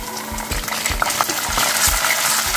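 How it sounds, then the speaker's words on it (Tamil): Ginger garlic paste hitting a hot pan for a rice and dal biryani, giving a steady close sizzle and frying hiss with soft stirring scrapes throughout and no talking. "இஞ்சி பூண்டு பேஸ்ட் போட்டுக்கலாம்."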